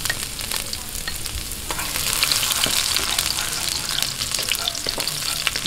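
Garlic sautéing in a hot pan for picadillo with ground meat, a steady loud sizzle and crackle running throughout, with occasional utensil scrapes and stirring, no talking.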